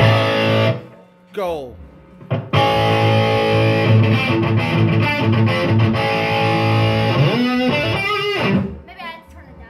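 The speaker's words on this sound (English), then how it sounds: "Shred with some distortion." A Telecaster electric guitar played through heavy distortion in a guitar store, with fast shredding runs and sustained notes, loud and close, after a brief pause near the start; a voice speaks a single word early on.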